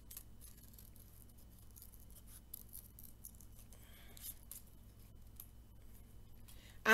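Scissors snip through paper, cutting out triangle and oval shapes for a paper lion craft, with soft, close, intermittent crisp cuts and no talking.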